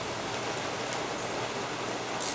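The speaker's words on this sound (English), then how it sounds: "You can hear the rain outside." Rain falls outside a garage, a soft, steady hiss of drops on surfaces heard continuously at low level, with no talk over it.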